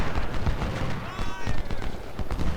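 Booming artillery and gunfire in the Civil War strategy video game Ultimate General: Civil War, with rolling, overlapping low thuds throughout under a voice talking.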